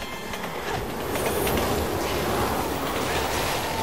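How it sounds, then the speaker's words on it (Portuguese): A train rushes past in the video game Resident Evil 6, a loud, dense, continuous roar of wheels and rattling carriages that stays close and strong from start to finish. "O trem vai vir pelas costas"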